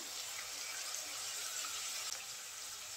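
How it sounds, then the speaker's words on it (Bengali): Water is poured into a pan of ground coriander, cumin, turmeric, dried chili and salt while cooking a fish curry with bitter gourd. It makes a steady, even splashing hiss for about three seconds, with no talk. "পানি দিয়ে দেবো একটুখানি।"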